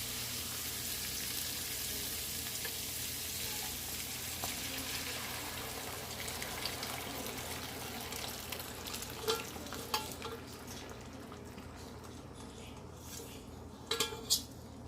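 Shrimp and chorizo paella simmers in saffron broth while being gently stirred, giving a soft, continuous sizzle and bubble with occasional light scrapes and clinks of a utensil against the pan.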